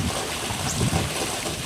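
Water drains from a backyard swimming pool during closing, a steady, loud, broadband rushing wash with no breaks, close by.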